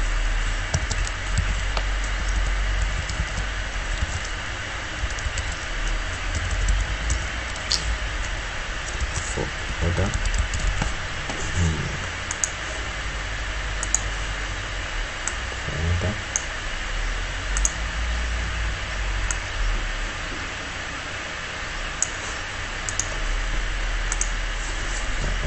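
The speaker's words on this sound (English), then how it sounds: "So then type for order." A computer keyboard is tapped in scattered bursts of light clicks while a poster is designed in Photoshop, the keystrokes close but soft over a steady background hiss.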